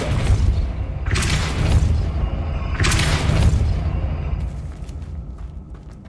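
The Depulso force spell fires twice in the Hogwarts Legacy video game, each cast a deep whooshing boom with a burst of bright rushing noise, followed by a fading low rumble.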